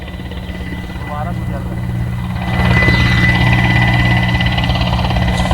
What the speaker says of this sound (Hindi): वायुसेना का विमान वापस लौटकर रायपुर एम्स के ऊपर से गुजर रहा है